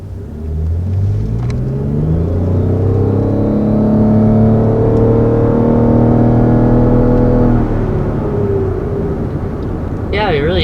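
A 2020 Lexus RX 450h hybrid accelerates from inside the cabin, its powertrain note rising in steady harmonic sweeps over a low rumble, loud and continuous for most of the run before easing near the end.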